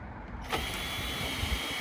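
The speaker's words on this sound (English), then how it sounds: "I use a cordless drill." A cordless drill winds down a 2020 Eco-Tourer 510 folding caravan: mechanical whirring and ratcheting starts partway through, a steady motorized grind with faint clicks running to the end.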